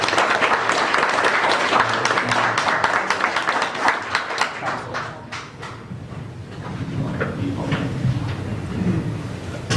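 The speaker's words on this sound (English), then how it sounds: "So let's give them a round of applause." An audience at a city council meeting applauds, brisk clapping from a modest crowd that fades after a few seconds into room noise and faint talking.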